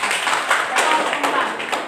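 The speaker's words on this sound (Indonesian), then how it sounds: "tepuk tangan untuk kelompok 4" Classroom applause for group 4 in a chemistry lesson, a short burst of scattered hand clapping from students, close and fairly loud, lasting under two seconds.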